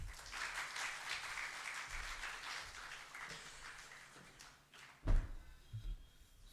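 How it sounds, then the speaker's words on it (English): An audience at a talk on accounting for startups gives a round of applause to welcome a speaker, a sustained crowd clapping that fades out, followed by a couple of low thuds and knocks near the end. "So, with a huge round of applause, let's welcome our Chartered Accountant, Sri Narayan Chaudhary."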